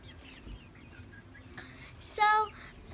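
Large black chickens in a coop, with soft clucking in the background and one louder, brief squawk near the end.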